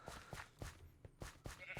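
A Minecraft sheep in a game world bleats in a run of short, repeated baas, spaced at a loose rhythm, clear and close with no talking over them.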